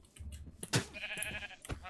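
A brief sheep bleat from the video game Minecraft, fairly quiet and close, with a short voice nearby.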